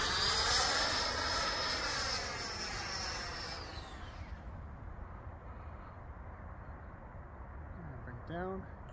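A small electric ducted-fan model jet roars past with a high-pitched whine that fades away, leaving a steady low rumble, with voices faintly in the background.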